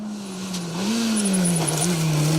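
An MG rally car with a 2.4 litre engine accelerates down a hill on a forest stage of a Welsh rally, its engine note droning and rising as it swells closer and louder, with no voices.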